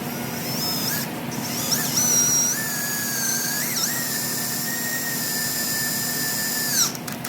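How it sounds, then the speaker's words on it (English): A power drill whines steadily at close range, drilling grease holes in an excavator stick, its pitch dipping briefly as it bites into metal, with a short pause partway through. "I'll drill those grease holes out where we're letting that cool off"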